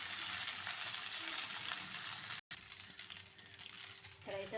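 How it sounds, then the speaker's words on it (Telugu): Spices tempering in hot oil for an okra curry on a home stove, a steady close sizzle and crackle that runs throughout with a brief dropout midway. "మళ్ళీ స్టవ్ ఆన్ చేసుకొని కూర పోపు వేసేసుకుంటున్నాను"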